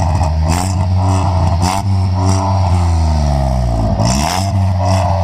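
Loud modified exhaust on a petrol-CNG Volkswagen Polo revving while parked, with repeated throttle blips rising and falling over a steady deep engine drone, close and continuous with no talk.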